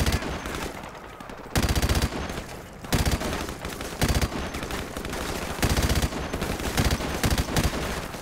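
Video-game gunfire from Call of Duty: Modern Warfare Remastered, dense bursts of automatic rifle fire and repeated shots in a continuous battle din, loud and close with no talk.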